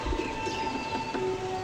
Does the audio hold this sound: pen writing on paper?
no